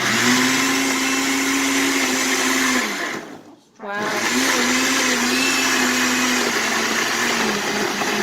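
A kitchen blender whirs loudly while mixing salsa verde, a steady motor roar that cuts out briefly midway and then starts up again at full power, with no talk over it.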